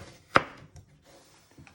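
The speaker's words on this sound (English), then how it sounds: "you're just going to chop it down the middle again" A knife cuts down through a sweet potato in one sharp, close chop on a board, followed by a few faint knocks and rustles in a quiet kitchen.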